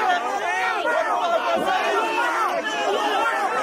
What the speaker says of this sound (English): Look, even the crowd is saying,